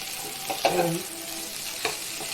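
Amaranth leaves (thotakura) fry in oil with cumin, a soft continuous sizzle under a few clinks and scrapes of stirring, close by and moderately loud.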